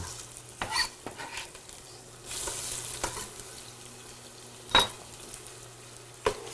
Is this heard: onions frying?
yes